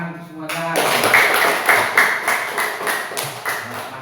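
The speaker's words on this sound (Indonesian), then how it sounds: "Tepuk tangan untuk semuanya." A classroom of students claps together after a teacher's call, a steady wash of many hands close by that keeps going for several seconds without talk.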